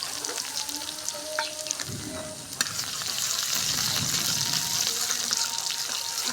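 Dried chili and cumin sizzle in hot oil, a steady close crackle with a few scraping stirs that grows denser and louder partway through.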